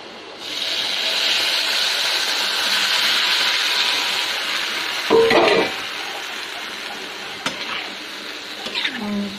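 Spices sautéing with cucumber and tomato in a pan for rohu fish curry, a steady close sizzle with a few scraping stirs and clanks of a spatula.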